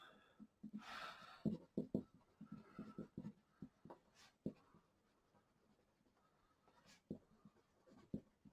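Hand-writing of a satellite ground track with pen on paper comes through as faint, close, intermittent scratchy strokes in short bursts, separated by brief pauses.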